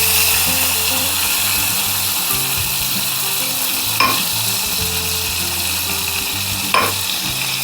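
Readymade butter sizzling in a pan on a stove for paneer tikka, a steady bright frying hiss close by, with a couple of sharp utensil clicks and no talk.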